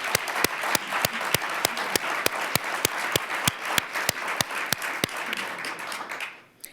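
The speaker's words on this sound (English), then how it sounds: "Please join me in a round of applause and thanks for their generosity." Audience applause breaks out at a marquee unveiling outside the Dominion Arts Center, a dense, steady wash of many hands clapping, loud and sustained for several seconds before fading out.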